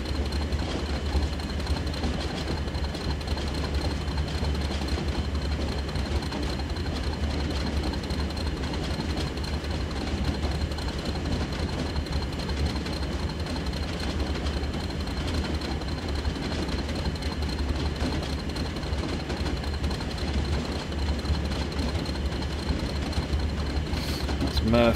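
A Class 40 diesel locomotive hauls a heavy oil train in a train simulator game, giving a steady low engine drone with continuous rail rumble and no breaks or spoken words.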